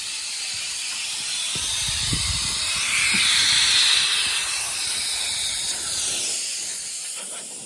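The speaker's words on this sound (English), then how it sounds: "Leaky air hose." A leaky air hose in a workshop, where a Farmall 560 tractor chassis is being restored, gives off a continuous, loud, close hiss of escaping air that swells in the middle and then eases slightly, with faint knocks underneath and no talking.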